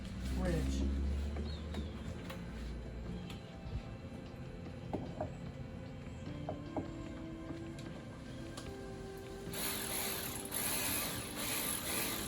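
Wrench tightening on a tow rig truck during maintenance, heard as a series of soft ratcheting clicks that are fairly faint and near, mixed with scattered clanks and low workshop noise, with someone talking at times.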